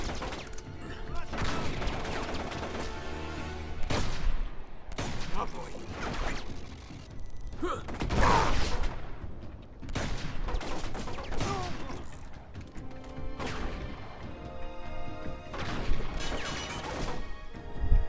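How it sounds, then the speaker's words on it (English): Bursts of gunfire and crashing impacts in the video game Uncharted 3: Drake's Deception, loud and repeated through the scene, with voices speaking between the shots. "Why were you shooting?"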